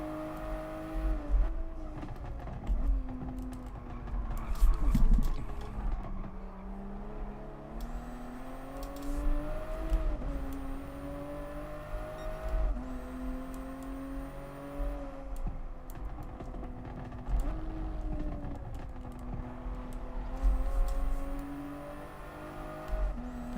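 A Toyota Supra race car engine in GT Sport, a steady drone with pitch sweeping up and down through gear changes as it laps, heard alone without talk.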